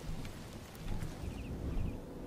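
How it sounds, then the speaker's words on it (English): Horse hooves in Oblivion, soft rhythmic clip-clop steps over a windy outdoor ambience, faint and steady for a couple of seconds. "Hello, horse."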